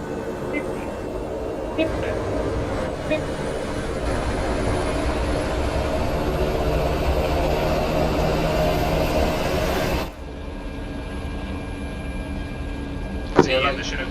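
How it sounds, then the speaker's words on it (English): A military helicopter's engine and rotors in the video game ArmA on Tanoa drone as a steady, loud roar that drops suddenly near the end, leaving a quieter hum with a brief click. "we both get the same chopper here"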